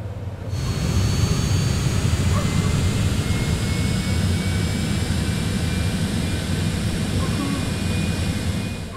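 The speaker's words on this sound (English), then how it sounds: "That'll put the throttle into throttle idle and introduce fuel into the igniters and fire up the engines." Twin jet engines of a Citation X spool up in a flight simulator, a steady loud roar with a rising whine that starts after a brief silent moment and holds evenly to the end, with no talk over it.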